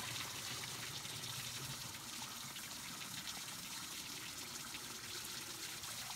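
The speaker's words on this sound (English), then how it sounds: "fill that with hot water right out of the bathtub or sink" Hot water gushes steadily into a carpet cleaner's reservoir, a constant rushing flow with no pauses.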